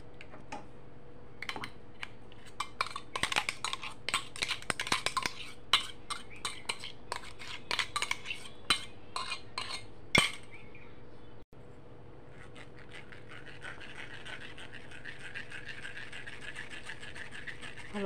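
Butter chicken gravy being strained through a metal sieve, with a steady run of close, busy scraping and clinking of a spoon against the mesh and pot, then a smoother continuous rubbing and sloshing.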